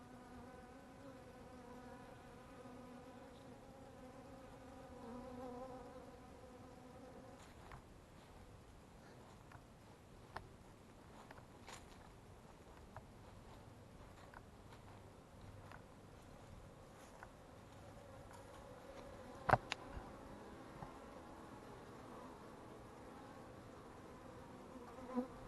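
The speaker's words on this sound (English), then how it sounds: "you're going to see bees bringing pollen in" Honey bees fly around a hive yard on a mild winter day in Alabama in January, a steady close buzzing hum that rises and falls as they pass, with a few faint clicks and taps.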